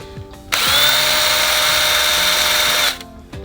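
A power drill whines loudly and steadily for about two seconds, starting and stopping abruptly, close by.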